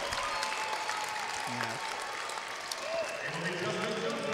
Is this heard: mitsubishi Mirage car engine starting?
no